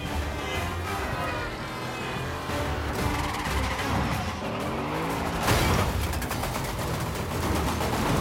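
A car skids on its tires during a high-speed chase, a drawn-out tire screech over engine roar with a sharper burst partway through, loud and close, with a faint voice underneath.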